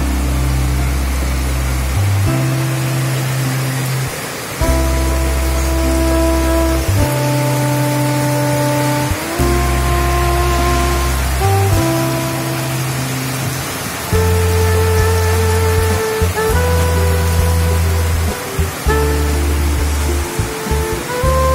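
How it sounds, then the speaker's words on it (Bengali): Heavy monsoon downpour heard from a balcony, a loud continuous hiss of rain that fills the whole clip, with steady droning tones layered underneath. "বলতে বলতেই বৃষ্টি শুরু।"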